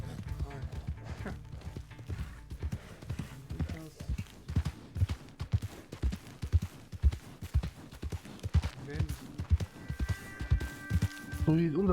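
Steady clip-clop of horse hooves trotting at a brisk, even rhythm in the video game Red Dead Redemption 2, fairly quiet, with people talking over it.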